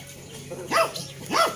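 A dog near a goat pen on a farm gives two sharp barks about half a second apart, close and fairly loud, with faint background noise.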